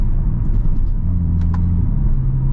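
Inside a 2023 Hyundai N car on the road, the engine and exhaust drone steadily and loudly with a low rumble and a rising tone, with faint clicks and no talk.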